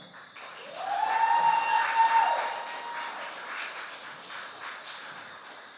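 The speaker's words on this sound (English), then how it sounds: "Ladies and gentlemen, a round of applause for Mr. Siobhan Bryan." An audience at a community youth and sports awards ceremony applauds an honoree, the clapping swelling after a second, peaking near two seconds, then thinning gradually, with a brief tonal whistle-like sound early on.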